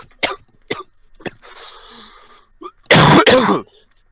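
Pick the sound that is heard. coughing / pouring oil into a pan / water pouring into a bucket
coughing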